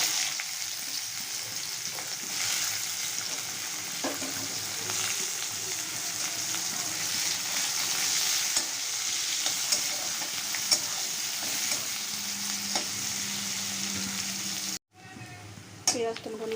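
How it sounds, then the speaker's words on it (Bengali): Chopped onions fry in hot oil in a kitchen wok, a steady close sizzle with occasional stirring scrapes, continuous throughout before a brief break near the end. "কড়াতে আমি তেল দিয়ে দিয়েছি, এখন এখানে এই কুচিয়ে রাখা পেঁয়াজগুলো দিয়ে দিচ্ছি"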